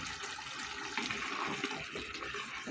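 Meat broth pours steadily into a pot of liver soup, a continuous close splashing and gurgling stream with no pause.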